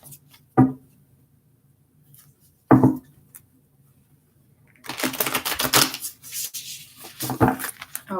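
Bursts of riffling shuffles of tarot cards, a couple of short ones followed by longer crisp flurries of flicking cards, close and fairly loud with no talking.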